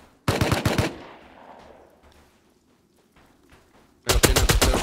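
Gunfire in the video game Rust: a loud burst of rapid automatic shots, then a quieter stretch of faint distant pops and thuds, then another sharp rapid volley at the end.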